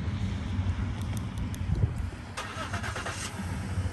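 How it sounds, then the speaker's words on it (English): A Ford car's engine starts from a remote start key fob outdoors, a brief cranking catch followed by a low, steady idle under light wind noise. "Don't know if you could hear that, but it just started with this fob"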